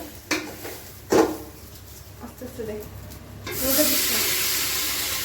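Water pours into a hot pot of fried rice on a gas stove, breaking into a loud sustained sizzling hiss after a few clatters of cookware, with people talking beforehand.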